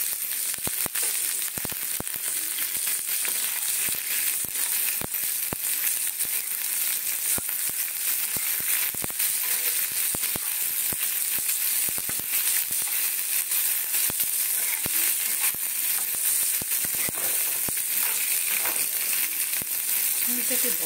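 Continuous loud sizzle of capsicum frying with meat and tomato in a pan, crackling steadily throughout with scattered sharp pops and occasional stirring, with faint talk in the background.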